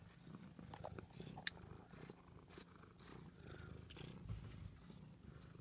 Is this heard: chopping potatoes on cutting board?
no